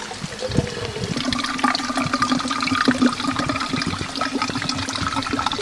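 Water runs steadily while being collected at a country house, a continuous close rushing and splashing flow with a tonal hum underneath and no talk.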